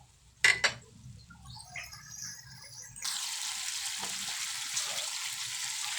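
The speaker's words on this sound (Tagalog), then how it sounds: "Tapos mag-add tayo ng water." Water is poured into a pan of sautéed bottle gourd with sardines: a utensil clinks first, then the hot pan hisses and sizzles as water streams in, steady and close.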